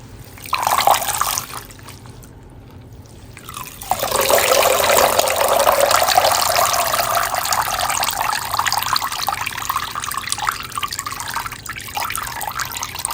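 Tap water runs into a sink while hair in human-hair mini twists is rinsed, starting with a brief splash, then after a short pause becoming a steady, close, broadband rush that gradually softens.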